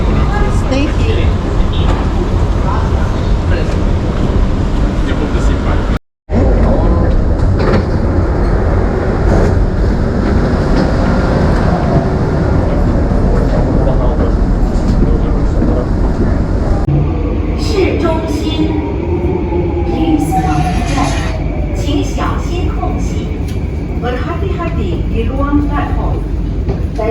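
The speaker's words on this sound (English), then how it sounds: "What can I say about the subway in Singapore?" A Singapore subway train rolls along with a steady loud rumble and rail noise, broken by one brief dropout, then a shift to a brighter hiss with faint squeals.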